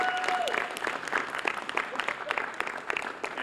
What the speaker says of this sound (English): if we could get another round of applause for Jim O.